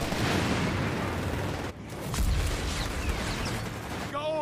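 Gunfire and artillery in a Company of Heroes 3 battle, where a British six-pounder anti-tank gun is among the weapons firing, with repeated booms and crackling shots over dense battlefield noise.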